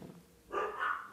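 A dog gives a short pair of barks or yips at moderate distance, quiet indoors, with no speech over it.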